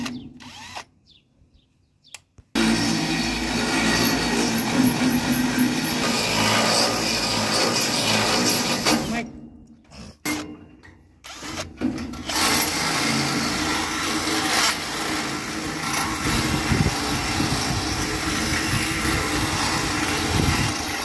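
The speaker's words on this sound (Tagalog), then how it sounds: "Yung malaking barena, kaya ganyan na nangyari. Pinapaluwang namin yung butas." A large drill bit widening a hole in a homemade padlock fitting: a loud, close, continuous grinding whine running for long stretches, broken by a few short pauses.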